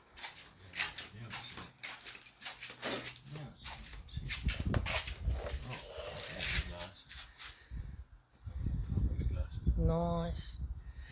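A dachshund in a car boot gives a short, close whimper near the end, among rustling and handling noises, while people talk.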